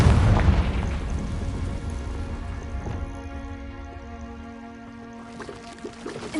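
A Confringo spell going off in the video game Hogwarts Legacy: a heavy, booming blast opens loud and rumbling, then decays into a lingering low ring and soft crackling debris, with no talk.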